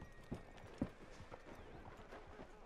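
Horse hooves in Red Dead Redemption 2 clip-clop at a slow, uneven walk, with a couple of louder, closer strikes early on over a faint ambient background.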